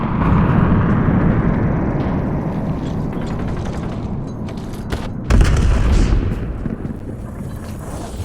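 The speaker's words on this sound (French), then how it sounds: "L'ennemi a tiré un missile de précision." A precision missile strike explodes during a Call of Duty: Black Ops 7 match, a deep booming blast that rises suddenly out of continuous rumbling battle noise, mechanical whirring and clanking, loud and close, with no voices.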